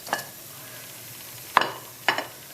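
Paneer cheese frying in a pan for an Indian curry, heard as a faint steady sizzle broken by three short scraping stir strokes, close by with no talking.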